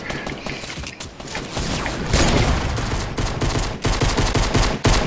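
Rapid gunfire from the video game Fortnite: dense, overlapping volleys of loud shots rattle on without pause, swelling into heavier bursts partway through and staying close and intense to the end.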